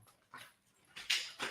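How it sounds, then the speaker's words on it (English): A dog whimpers and whines at a door, wanting to be let inside; a few short, high, breathy whimpers come close together, fairly near and quiet, with no talk over them. "the dog wants to come in"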